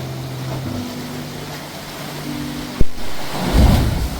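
Ocean waves crash against the rock formations of Acadia National Park, giving a steady broad roar with a heavier surge near the end and no voices.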